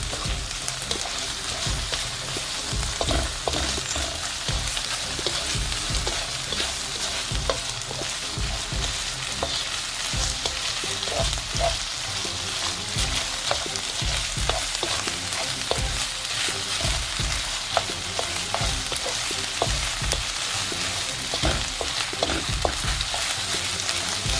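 Spring onion with garlic and ginger paste sautéing in a pan for sweet and sour chicken, a steady loud sizzle with frequent scraping stir clicks throughout, no voices.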